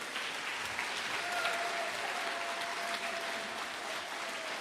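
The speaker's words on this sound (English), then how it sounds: "So let's give them a big round of applause." An audience at a 2021 middle school awards ceremony gives a steady, even round of applause, a continuous wash of clapping heard at moderate distance with no talk over it.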